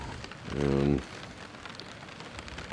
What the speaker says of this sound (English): it's just been rainy so far the whole time out here